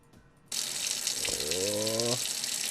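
Water suddenly starts gushing and keeps running steadily, like a shower turned on in the video game Who's Your Daddy, with a brief rising mechanical tone partway through.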